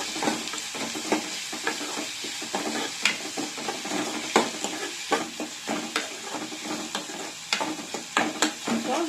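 Curry leaves and chopped onions sauté in a pan while a spoon stirs them, giving a soft continuous sizzle with frequent scraping clicks and taps, fairly quiet and without talk.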